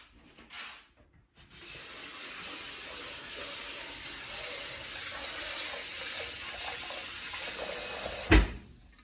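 Sushi rice is washed under a running tap, a steady rush of water pouring into a bowl for several seconds after a few soft handling sounds, ending in a sharp knock.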